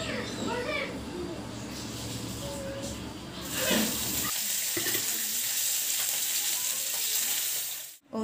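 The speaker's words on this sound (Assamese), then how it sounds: "মাছখিনি ফ্ৰাই কৰিম এতিয়া" Fish sizzles as it fries in a pan for an Assamese fish curry with outenga. A loud, steady hiss and crackle builds after the first few seconds and carries on close and continuous.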